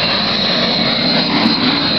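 Supermarine Spitfire warplanes passing at the Camarillo airshow, a steady broad engine roar that fills the whole two seconds at fairly close range, with no talk over it.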